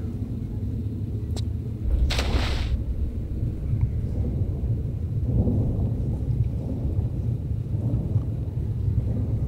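A thunderstorm in a Tomb Raider custom level: a sharp crack of thunder early on gives way to rolling rumbles under a steady wash of rain, with faint rumbles continuing throughout and no talking.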